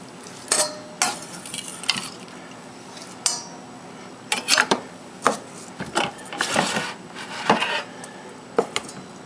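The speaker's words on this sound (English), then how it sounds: "So I'm just going to get that off the cob like that." A knife scrapes corn kernels off the cob into a bowl for homestyle creamed corn: a series of close, crisp rasping strokes in irregular bursts, with no talking.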